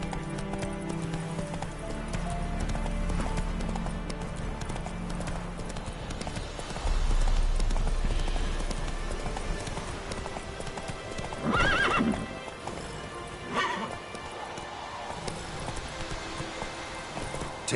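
A horse's hooves clip-clop steadily at a gallop in The Witcher III, close and continuous, joined by a whinny and a few sharp bursts, with light rain-like hiss in the background.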